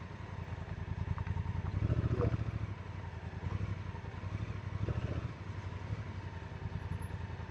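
Honda Africa Twin DCT adventure motorcycle being ridden through desert country, its engine rumbling steadily and close with a brief swell in revs, wind and road noise running underneath throughout.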